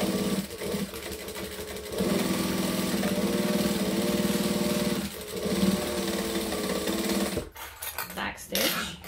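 A sewing machine chain-sews pieces of a tote bag in long continuous bursts, its motor humming with a fast needle rattle, then pauses before clicks and handling noises and a short final run; the machine is near and loud.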